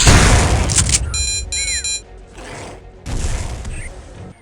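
A mutant hunter enemy in Turok 2: Seeds of Evil beeps in a short series of tones, then self-destructs in loud blasts and mechanical crashes that come in separate bursts with brief lulls between them.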